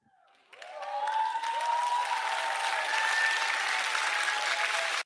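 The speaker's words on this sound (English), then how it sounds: "Did y'all hear the clapping?" A canned clapping applause sound effect plays during a live knife-collecting stream, starting abruptly after a brief pause and holding steady and fairly faint before cutting off sharply.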